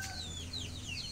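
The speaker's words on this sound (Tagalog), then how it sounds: "Pati mga manok excited" Faint, brief clucking from chickens on a backyard farm against a low background hum.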